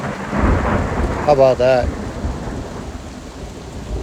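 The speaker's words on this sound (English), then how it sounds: "actually have a thunderstorm going on around you with some pretty significant thunder and lightning" A thunderstorm rumbles over pine and hardwood forest, with steady rain and deep, rolling thunder close by; someone speaks briefly over the storm.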